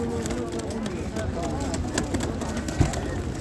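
Pigeons coo at a bird market in Ganja, soft low calls under a steady bustle of crowd noise and people talking nearby.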